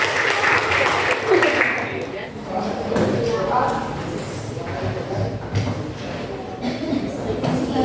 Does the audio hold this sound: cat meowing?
no